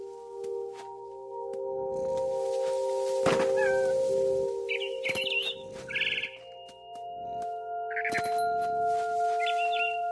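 A cat meowing in a game scene with a frightened bird nearby: short meows and chirps sound over a steady electronic drone and sparse percussive hits, close and fairly clear.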